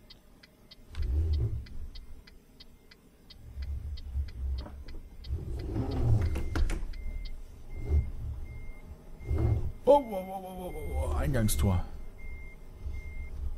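Truck reversing beeps in Euro Truck Simulator 2, a regular series of evenly spaced electronic beeps through the first half over engine rumble, with someone talking throughout.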